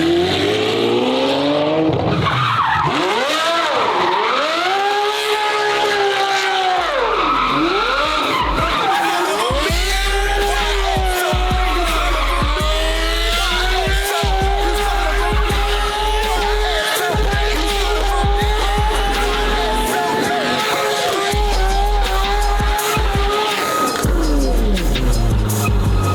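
A loud Lamborghini roars up close as its tires squeal and skid continuously, engine pitch sweeping up and down through sustained wheelspin with no pauses.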